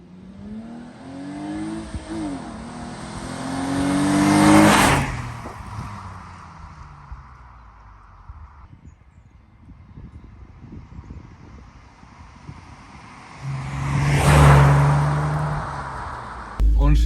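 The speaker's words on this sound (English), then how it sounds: "The engine sound is natural, and I'll let you have a little listen to that now." BMW Z4 sports car engine revving in two loud swells, rising and falling with wind buffeting the microphone, idling quieter between them.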